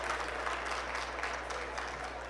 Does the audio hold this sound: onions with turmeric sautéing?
no